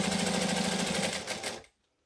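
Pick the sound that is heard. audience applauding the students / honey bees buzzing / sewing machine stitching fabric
sewing machine stitching fabric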